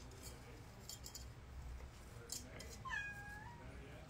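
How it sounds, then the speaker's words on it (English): A pet cat gives a short meow near the end, fairly faint over quiet room noise with light clinks of glass nearby. "she's just meowing because it's time for us to play and be cutesy cutesy"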